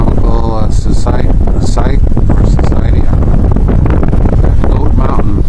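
Heavy wind buffets the microphone with loud low rumbling while someone talks throughout, outdoors in Landers, California.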